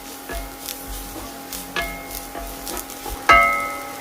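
Green chillies stir-fried in a pan of spiced tomato mezhukkupuratti: a soft, steady sizzle with scattered light scrapes and clicks of stirring, plus a sharper clatter near the end.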